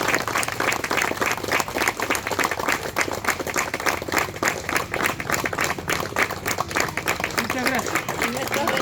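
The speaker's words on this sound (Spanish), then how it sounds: "un fuerte aplauso para ellos" An audience at an event honouring veterans of the cruiser ARA General Belgrano breaks into a strong, sustained round of applause, with rapid overlapping claps that stay loud and steady throughout.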